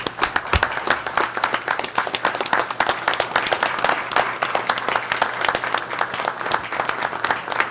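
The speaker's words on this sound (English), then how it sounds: "let's all give Casey a round of applause" Steady, dense applause fills a room at a city commission meeting, many hands clapping in an even, sustained burst with no talking over it.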